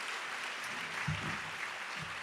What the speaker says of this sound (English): will you please give a round of applause to the servers who served us here today